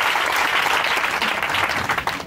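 Audience applauding and cheering for the Lord, a dense, loud burst of clapping from a crowd that fills the whole moment without a break.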